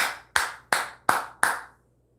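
Five sharp hand claps at an even, steady pace, close and crisp, with silence after the last one.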